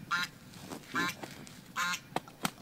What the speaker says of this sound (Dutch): Het zijn ganzen.